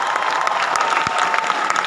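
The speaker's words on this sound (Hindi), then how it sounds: "एक बार जोरदार ताली होनी चाहिए" Audience applause at a celebration gathering in Varanasi, a dense, steady roll of clapping from a crowd close by, with no clear talk over it.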